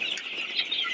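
Chickens on a Sonali chicken farm, with a dense chorus of clucking and calling that carries on steadily throughout a brief moment.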